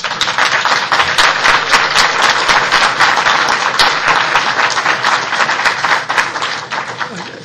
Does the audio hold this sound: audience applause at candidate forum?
yes